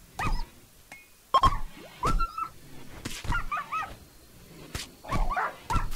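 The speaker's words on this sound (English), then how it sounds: "Lay down, big dog." Dog barks and whimpers in the video game RimWorld: several short, sharp bursts with brief yips and whines between them, near and fairly loud, with no talking.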